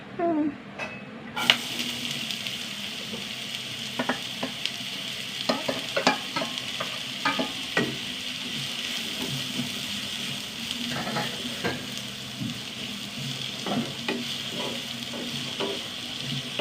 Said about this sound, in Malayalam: നന്നായി വഴണ്ട് നന്നായി വഴറ്റണം ഉള്ളിയൊക്കെ നന്നായി വഴണ്ട്